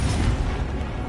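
An Incendio fire spell is cast in Hogwarts Legacy, producing a short, dense roaring whoosh of flame that stays loud and steady before easing off slightly at the end.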